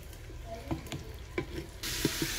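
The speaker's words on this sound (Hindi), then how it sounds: "प्याज हमारा हल्का ब्राउन हो गया, अब अदरक और लहसुन का पेस्ट इसमें हम शामिल कर देंगे।" Onions fry in a pan for an aloo gobi salan, giving a quiet crackle with a few sharp clinks and scrapes of a stirring spoon, and a brighter burst of hiss near the end.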